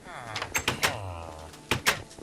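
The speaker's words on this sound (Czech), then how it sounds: "S těma dveřma, jak tady blbnou." Minecraft doors in a multiplayer game opening and closing several times in quick succession, sharp wooden clunks close and fairly loud, with some game background sound between them.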